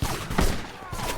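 Gunfire during a video game shootout, a burst of overlapping shots with a loud peak midway, busy and close, with faint voices underneath.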